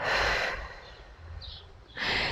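A loud, close breath exhaled steadily through the mouth during a pregnancy breathing exercise, a breathy rush that fades, then a second exhale begins, with no talk.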